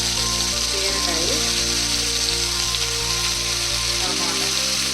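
Ridge gourd sizzles in hot oil for a homemade mixed-vegetable chutney: a continuous crackling hiss, close and steady, with a few brief spattering pops and a low hum beneath.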